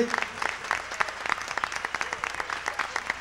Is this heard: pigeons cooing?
no